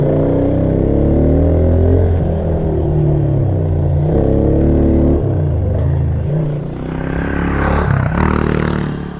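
Pit bike ridden hard around an abandoned mini golf course, its small engine revving loud and close in rising and falling bursts as it accelerates and shifts, with scraping and clattering near the end.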